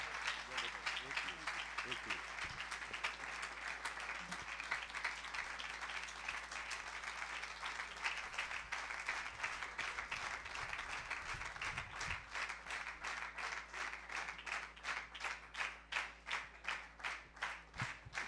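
A church congregation at a Sunday service claps loudly and steadily, the many hands falling into a regular rhythmic beat that grows more distinct toward the end.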